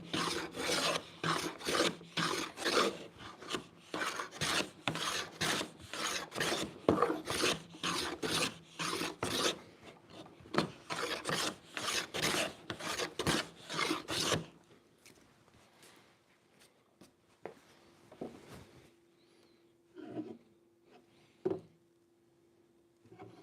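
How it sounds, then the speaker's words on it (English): A hand plane shaves the edges of a figured wood board in rapid rhythmic rasping strokes, loud and close for about fourteen seconds, then gives way to quieter scattered knocks and scrapes at the bench. "So we probably need to do some more planing on the edges."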